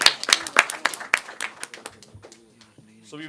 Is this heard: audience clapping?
yes